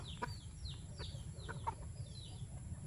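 Chickens cluck repeatedly in short, quick calls over a low steady hum, fairly faint and close by.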